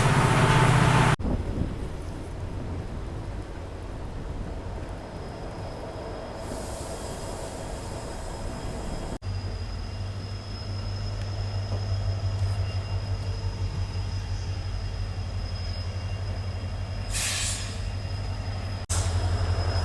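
Steady rumbling and rattling from inside a passenger train moving at about 80 km/h between Chamarajanagar and Mysuru, with occasional high wheel squeals and no voices.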